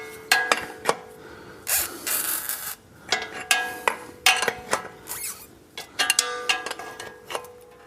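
Ratchet clicking as it loosens a fitting during an oil change on a 2019 Porsche 991.2 GT3 RS, with repeated short bursts of sharp metallic ratcheting and scraping close up and no talking.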